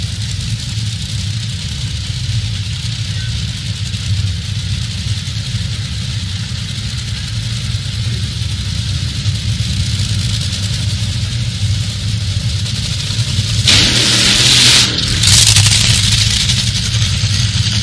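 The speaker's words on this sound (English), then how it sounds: "And Doug Kalitta, a substantially stronger burnout there out of the Sealmaster machine." Top Fuel dragsters at a round-one elimination pair: a steady low engine rumble from a distance, then a loud harsh burst of burnout roar near the end, with no talk over it.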